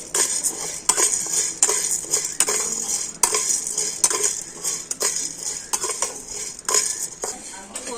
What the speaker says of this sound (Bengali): একটু এরকম নাড়াচাড়া করে তো একটু হালকা করে সাবুদানাটা ভেজে নিতে হবে